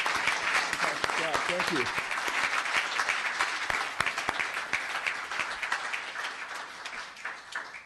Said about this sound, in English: Let's give another round of applause for these young ladies.